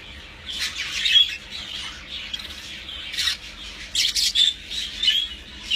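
Budgerigars in a breeding stud giving off bright squawks and chirps, several overlapping calls in irregular bursts against a quiet background, close by and fairly loud.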